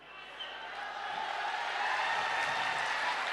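Audience at a Hunar Haat kavi sammelan comedy poetry recital breaks into applause, a soft, distant patter of clapping that builds gradually and holds steady.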